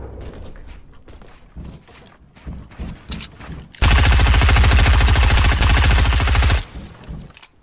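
Sustained automatic gunfire in Fortnite, a loud continuous burst lasting several seconds after a stretch of scattered lighter shots and clatter, close and dominant.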